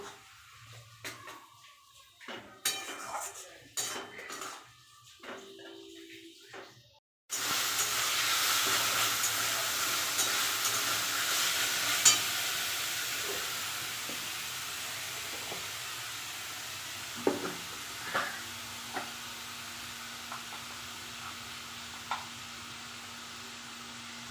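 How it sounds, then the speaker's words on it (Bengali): Spice paste for a meat curry stir-fries in a pan with a steady, close sizzling hiss that starts abruptly after some quiet clatter. Occasional stirring clicks sound over the frying. "মশলাটা ভালো করে কষিয়ে নেব"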